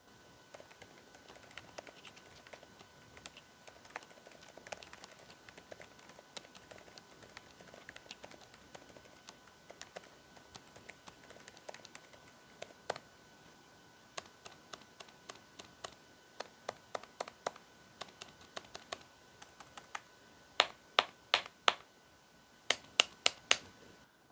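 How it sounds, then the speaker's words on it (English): Soft, muffled keystrokes patter steadily on a quiet Be Quiet! Light Mount keyboard with silent switches, with sharper clacks in quick clusters toward the end; no talking. "we're going to hear what it actually sounds like typing on the keyboard"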